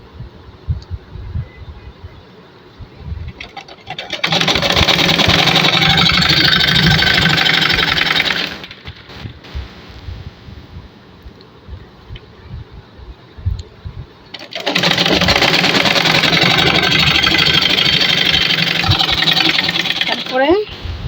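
A sewing machine stitches along elastic on a pajama waistband in two long, loud, steady runs of whirring, with quieter pauses and talk in between.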